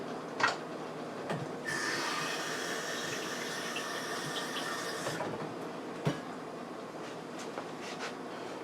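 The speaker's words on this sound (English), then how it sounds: "let me wash my hands" Tap water running into a sink during handwashing in a home kitchen: a steady hiss of flowing water for several seconds, bracketed by faint clunks and handling knocks, with no speech.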